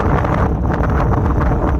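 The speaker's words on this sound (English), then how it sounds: "Sorry about the wind." Strong wind buffets the microphone on a Danby Moor hilltop, a loud, continuous rough roar with gusty surges throughout and no voice.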